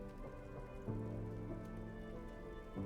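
Steady night rain ambience in the video game Escape Simulator 2, a soft, even patter of drops on surfaces with a low, continuous hum underneath and no talk.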